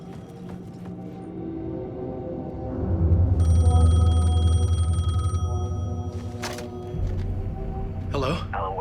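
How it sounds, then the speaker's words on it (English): A payphone in the dark thriller game Alan Wake 2 gives a bright electronic ring for about two seconds, over a deep rumbling drone and ambient sound, with sharp clicks toward the end. "The payphone was ringing."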